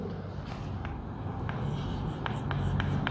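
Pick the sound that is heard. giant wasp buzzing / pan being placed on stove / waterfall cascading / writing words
writing words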